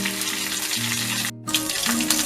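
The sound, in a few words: mustard seeds and curry leaves sizzling in hot coconut oil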